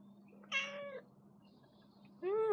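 A cat meows twice at a door, two short, clear cries separated by a quiet pause, close and alone against a faint background hum.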